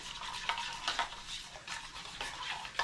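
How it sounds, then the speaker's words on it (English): Taco seasoning being stirred into a loose dressing in a bowl, with a steady scraping swirl broken by several sharper clinks and scrapes of the utensil, close and moderately loud. "Stir it all together."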